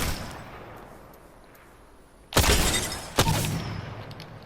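Two loud, sharp shots ring out about a second apart from an Apex Legends weapon fired with no attachments, each followed by a short decaying tail over quiet game ambience.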